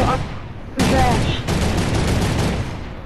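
Sniper rifle gunfire in the Fortnite video game, heard as a sharp loud report followed by dense sustained shooting and battle noise, with faint voices underneath.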